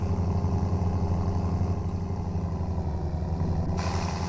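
Tractor engine in the BeamNG.drive driving game, a loud, steady low-pitched rumbling drone with even harmonic throb, continuous and unchanging throughout.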